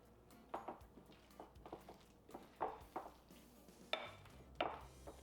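Potato stuffing for oil-free twice baked potatoes being stirred in a bowl, giving soft irregular scrapes and light clinks of a utensil against the bowl, quiet and close, with about six distinct taps spread through the mix.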